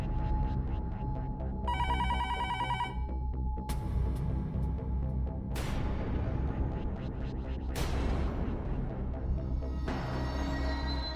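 A telephone rings repeatedly in bursts with no one picking up, over a busy background of dramatic music and booming hits.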